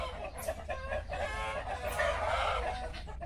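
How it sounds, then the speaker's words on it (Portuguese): Chickens in a coop cluck and chatter continuously, several birds overlapping at moderate distance, with a brief higher call rising above the steady murmur. "Gosto muito de galinheiro, né? Assim, um barulhinho diferente."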